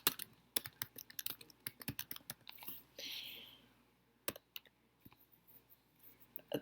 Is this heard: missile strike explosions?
no